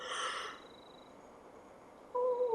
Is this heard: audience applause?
no